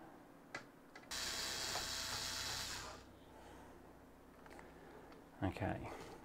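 An electric screwdriver removes screws from an InWin Chopin Mini ITX computer case, giving one close, buzzing whir of about two seconds, followed by faint clicks and handling noises.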